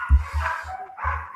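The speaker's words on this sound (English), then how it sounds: "My dog's barking." A dog barks nearby in a few short, loud woofs with brief whimpering yips between them.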